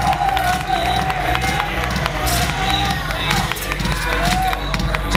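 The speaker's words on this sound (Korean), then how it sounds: "자, 다시 한번 우리 선수에게 뜨거운 박수 부탁드립니다." Crowd applause and cheering for a contestant at a bodybuilding contest, the Mr. YMCA competition, a loud, continuous roar of clapping and shouts with hall echo and low rumble beneath.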